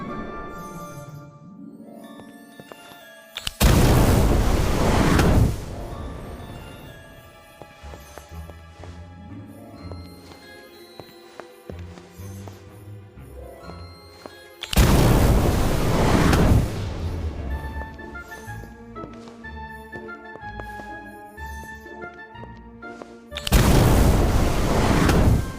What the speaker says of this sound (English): Try casting Incendio beneath each cauldron.